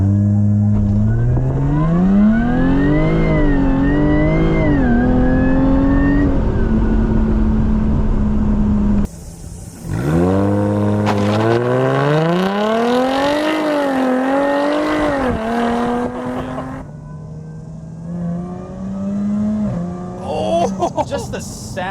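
A Jaguar F-Type V6 S revs hard and accelerates through rising and falling gear pulls, loud and close with a brief gap between runs, ending in crackles from the exhaust.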